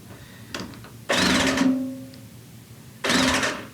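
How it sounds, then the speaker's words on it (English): A hand crimping tool makes pressure crimps on a high-voltage cable lug, two loud, close mechanical grinding bursts about two seconds apart, each ending in a click, with a faint tonal whine between them. "Click indicates that we've done our pressure connection"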